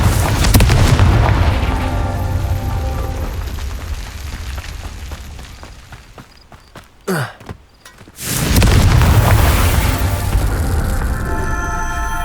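The Confringo spell in Hogwarts Legacy detonates in heavy booming blasts, loud and close, with a rumbling roar that drops away, a short whoosh, and then another deep blast and crackle.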